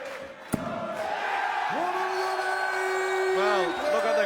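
A darts crowd at the 2012 World Grand Prix sings a player's walk-on tune in a loud sustained chant filling the venue, with a single sharp knock near the start.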